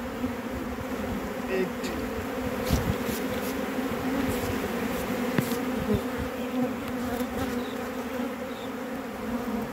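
Honey bees swarm and buzz around a hive outdoors, a steady, dense drone with a few louder passes of individual bees flying close by, continuous throughout with no talking.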